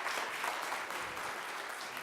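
Applause for a family band at a St Johns talent show, a fairly quiet, even patter of many hands clapping from the audience with no break.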